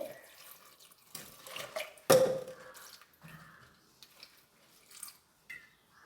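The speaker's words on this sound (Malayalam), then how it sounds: "വളരെ കുറച്ച് വെള്ളം മാത്രമാണ് ഒഴിച്ച് കൊടുക്കേണ്ടത്." Water is poured into a cooking pot of Kerala-style taro (chembu) curry, only a small amount, in short splashy bursts with a brief louder gush and quiet kitchen clatter between.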